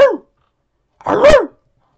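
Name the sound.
dog barking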